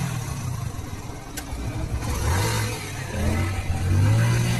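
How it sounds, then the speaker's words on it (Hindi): A motorcycle engine sound effect in a Hindi horror cartoon rumbles low, then revs up and grows louder, ending in a deep sustained roar. "हेडलाइट की चमक और इंजन की गड़गड़ाहट ने माहौल बदल दिया।"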